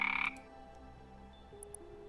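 A video game frog lets out a loud, close croak at the start, then fades into a faint background of soft game tones and brief chirps.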